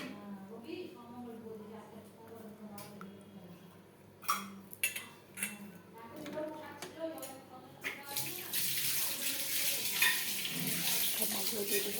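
Fish pieces go one at a time into a pan of spice paste thinned with water, giving soft clinks and stirring at first, then a steady, loud sizzle that builds through the second half, with light kitchen clatter.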